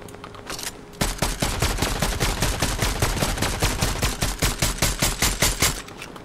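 Rapid automatic gunfire in a video game, a loud, steady stream of evenly spaced shots lasting several seconds, preceded by a brief quieter lead-in.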